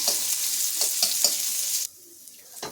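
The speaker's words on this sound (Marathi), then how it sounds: "इथे थोडंसं असं तेल घालायचं आहे आणि यात आपण एक कांदा भाजून घ्यायचा आहे" A sliced onion fries in oil for Pandharpur bajar amti masala, sizzling loudly with rhythmic stirring scrapes, then the sizzle drops away, leaving quiet and one more scrape.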